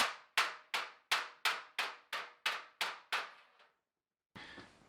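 A hammer strikes sheet metal against a dolly on a C10 pickup truck body, with ten sharp ringing clangs in an even rhythm, each decaying quickly, followed by a pause and a short scrape.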